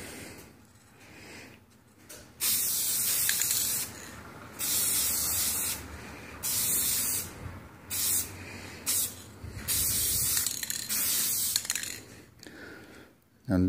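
Clear coat sprayed from an aerosol can onto a car headlight comes as a series of short, close hissing bursts with brief quiet pauses between them, the last burst held longer.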